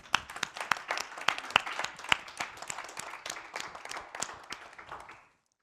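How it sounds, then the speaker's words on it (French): A TV studio audience applauds loudly to welcome two guests, dense steady clapping with sharper individual claps on top, lasting about five seconds before stopping abruptly. "qu'on applaudit très fort"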